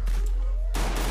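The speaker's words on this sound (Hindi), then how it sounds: "वो देखो गोली चला उस तरफ" Gunfire in the Free Fire Clash Squad mobile game, a burst of rapid shots at the start, then a brief lull, followed by a loud, dense volley of automatic fire.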